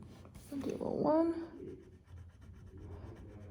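A pencil scratches out a number on paper in a few quick strokes at close range, with faint room noise around it and no talking.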